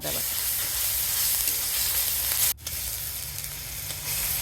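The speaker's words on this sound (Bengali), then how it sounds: "আদা বাটাটা একটু কাঁচা গন্ধ না ছাড়া পর্যন্ত ভেজে নিই।" Ginger paste frying in a pan for a katla fish curry, with a loud, steady close-up sizzle that drops out for an instant, then resumes with an occasional stir.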